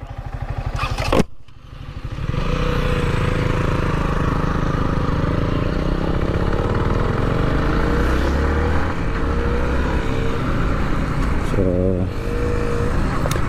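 Engine noise from a Yamaha MT-15 BS6 and a KTM Duke 125 BS4 motorcycle drag race: a sustained, loud engine drone with shifting revs runs nearly throughout after a brief dip near the start.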